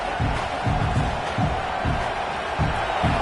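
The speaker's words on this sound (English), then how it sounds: "It's early, but this crowd is fired up. Listen to this noise here." Football stadium crowd at a college game, Washington against Nebraska, roaring steadily with rhythmic chanting or clapping pulses and scattered whoops, a dense, sustained wall of noise.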